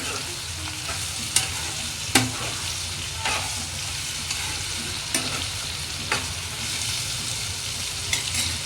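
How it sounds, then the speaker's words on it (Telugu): Spicy brinjal masala fry sizzles in a pan while turmeric is stirred in, a continuous frying hiss broken by a few sharp scrapes and clicks of the spoon against the pan. "ఒకసారి మొత్తం కలిసే వరకు కలుపుకోవాలండి"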